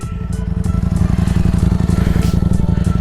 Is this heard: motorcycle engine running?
yes